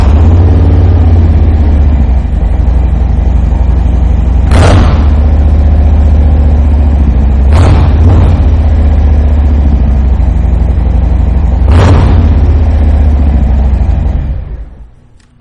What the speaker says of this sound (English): I am going to take the opportunity to fire this bike up now so you can hear that 2-into-1